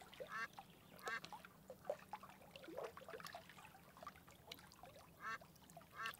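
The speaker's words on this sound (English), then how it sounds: "let's listen for ducks quacking and water." Ducks quack in repeated short nasal bursts, some near and some a little farther off, spaced through the stretch over a soft background of trickling water.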